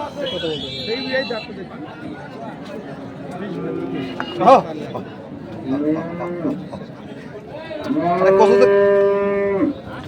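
At a bull market in Chattogram, cattle moo loudly, with a long, drawn-out moo near the end. People's chatter and talk continue around the animals.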